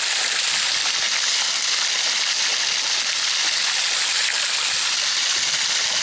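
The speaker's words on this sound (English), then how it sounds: "how much water is coming into the system" Water pouring into a restored wetland at the Cottonwood restoration site, a steady, loud rushing hiss of flow continuing unbroken and with no voices.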